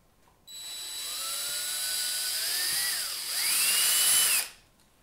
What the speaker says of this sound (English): finish drilling the rest of the holes